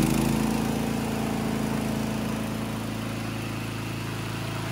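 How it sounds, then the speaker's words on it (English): A VTLM800 crawler remote-controlled brush mower fitted with a snow blade runs its engine at a steady idle, a close, continuous droning hum that eases slightly in level after the first second. "first, use the button on the control panel to start the engine"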